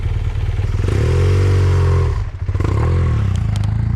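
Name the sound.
motorcycle riding over potholes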